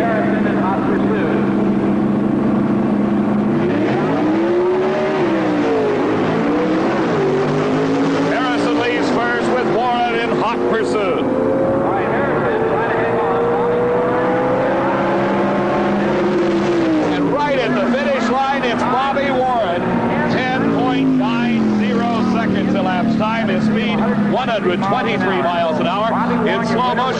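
Drag racing cars roar down the strip at the 1978 NHRA Sportsnationals, loud engine pitch sweeping up and down through several runs, with a commentator talking over the noise throughout.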